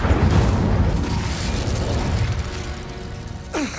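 An Incendio fire spell cast during combat in Hogwarts Legacy produces a loud, dense rushing burst with a rumbling low end. It fades over a few seconds, and a quick descending whistle sounds at the very end.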